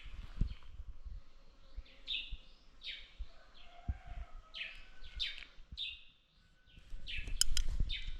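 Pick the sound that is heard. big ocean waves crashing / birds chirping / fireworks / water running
birds chirping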